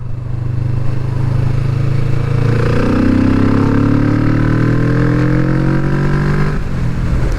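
A Kawasaki Vulcan S motorcycle engine pulls hard under acceleration on a test ride, its loud, close exhaust note rising steadily in pitch over several seconds before easing off, with wind rush underneath and no talk.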